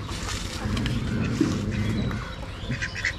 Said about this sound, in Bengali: এই হাঁস খেয়ে নিচ্ছে রে